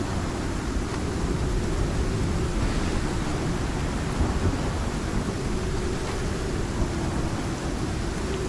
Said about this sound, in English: It's a bit stormy here.